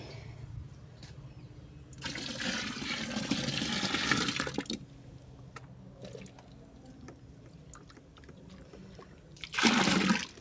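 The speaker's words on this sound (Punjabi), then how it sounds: "ਸੋ ਇਹ ਪਾਣੀ ਆਪਾਂ ਮਸ਼ੀਨ ਦੇ ਵਿੱਚ ਪਾ ਦਾਂਗੇ" Water rushes and splashes in a gush as it is poured into a washing machine, then trickles and drips quietly before a second short surge of pouring near the end.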